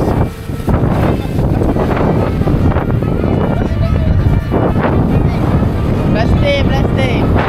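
Strong wind buffets the microphone beside water in a loud, continuous roar with gusty surges, and speech is heard faintly underneath.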